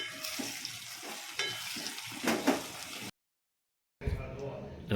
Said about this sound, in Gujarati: તો ચાલો આપણે ભીંડાનું શાક પણ ચડે છે સરસ મજાનું.